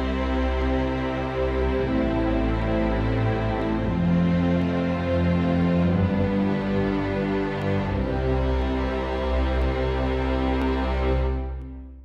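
An orchestral string section of violins 1 and 2, viola, cello and bass plays sustained chords arranged from a piano sketch, a full steady texture that holds for about twelve seconds and then fades out.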